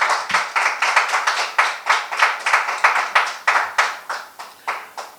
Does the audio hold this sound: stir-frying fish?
no